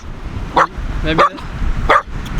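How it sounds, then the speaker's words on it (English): Several short, sharp puppy barks and yips, close by, spaced out with brief pauses between them, in the Tuamotus. "What are you barking at?"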